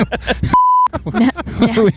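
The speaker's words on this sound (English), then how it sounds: "There's the beep." A single sharp, steady electronic censor beep cuts in between stretches of speech, lasting about a third of a second.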